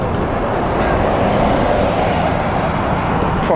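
A Qatar Airways Boeing 777 passes at Heathrow Airport, a broad continuous jet roar that swells slightly toward the middle and holds steady, loud and fairly close, with no voices.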